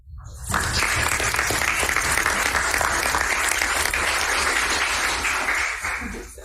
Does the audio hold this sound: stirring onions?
no